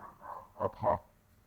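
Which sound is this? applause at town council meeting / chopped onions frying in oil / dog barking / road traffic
dog barking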